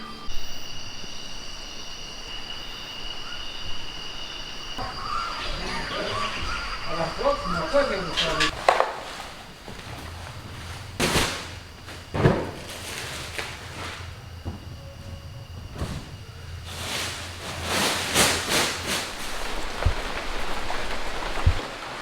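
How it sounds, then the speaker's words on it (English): Steady rain patters down on a farm throughout, with scattered louder knocks and clatters breaking through the downpour. "it is raining a lot more than I thought was going to be raining this weekend"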